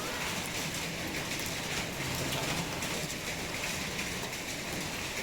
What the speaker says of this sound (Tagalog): Sana wag nang lumakas ang ulan.